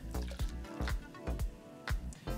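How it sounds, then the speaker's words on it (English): Champagne from the second half of a bottle glugs and splashes as it is poured into a large bowl for champagne jellies, in an uneven rhythm of about six gurgling pulses, close and fairly soft. "So the second half of the first bottle, I'm going to add to a large bowl. All of it, just pour it in there."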